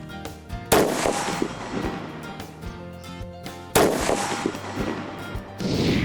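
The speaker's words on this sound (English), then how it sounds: "lean slightly into the target, and take the shot" Two sharp, loud rifle shots ring out a few seconds apart, fired from a kneeling position with a sling wrapped around the shooter's wrist and forearm, each followed by a rolling echo.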